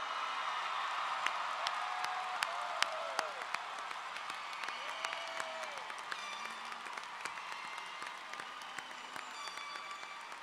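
Crowd applause fills the 2014 Southern Connecticut State University undergraduate commencement ceremony, a dense and steady wash of many hands clapping at moderate distance with a few sharper nearby claps.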